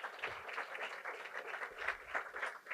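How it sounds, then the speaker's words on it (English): A town audience applauds at a State of the Town event, a steady round of clapping from a room full of people, moderately distant and continuous with no talking. "So let's give them a round of applause."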